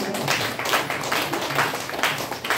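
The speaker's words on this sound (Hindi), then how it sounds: "तो एक बार अपने आप के लिए भी जोरदार तालियां होना चाहिए।" Audience members at a Hindi-language motivational presentation applaud themselves, a fairly faint, continuous patter of many hands clapping throughout the short stretch, with no voices standing out.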